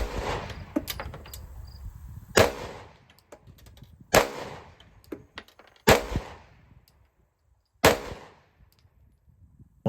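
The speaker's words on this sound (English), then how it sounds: "Let's fire 5 more rounds and see if that's true." Five pistol gunshots fired on a range with an Osight K red dot sight mounted, sharp loud cracks spaced about two seconds apart, standing out above a low background hum and faint insect-like chirping.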